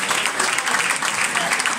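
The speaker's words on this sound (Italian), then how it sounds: "un applauso a Roberto Fani." Applause from a crowd at a sports event, brisk dense clapping close by that holds steady through the short stretch, with some voices faintly mixed in underneath.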